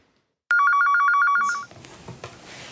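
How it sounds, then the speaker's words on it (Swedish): A home landline in a house outside Stockholm rings with a rapid electronic trill, a clear burst of about a second, then a faint clatter and muffled room noise follow. "Det ringer hemma hos Vida Djalali"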